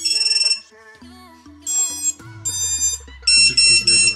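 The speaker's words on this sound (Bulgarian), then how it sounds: "Доста силно пищи този бипър, но то така трябва да бъде." An FPV drone's beeper sounds loudly at first power-up, a TBS SourceOne V5 6S build with DJI HD, giving a sequence of sharp electronic tones and melodic beeps at different pitches, close by.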